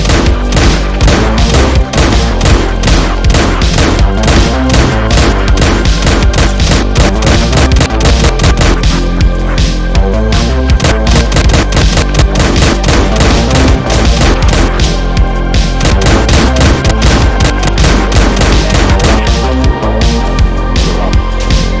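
Rapid, relentless blasts from a Spaz 12 shotgun in a zombie survival video game, dense continuous booming gunfire filling the whole stretch at very high loudness.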